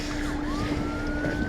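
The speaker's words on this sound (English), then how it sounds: "I think the ambulance is honking" Ambulance siren in city traffic, a moderately loud wailing tone that rises and sweeps steadily over a constant hum of engines, heard alone without talk.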